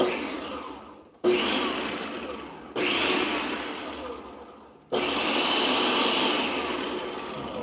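Cooked green beans are pulsed in a blender, the motor roaring steadily in three long bursts separated by brief silent pauses, loud and close.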